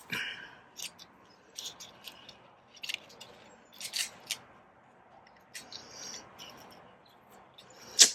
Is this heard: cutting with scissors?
yes